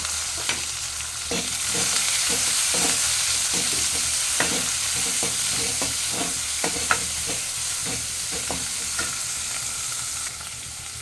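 Chopped onion, green chilli, garlic and tomato frying in a pan with a constant hiss, broken by frequent scraping and tapping strokes of a spatula at an uneven pace.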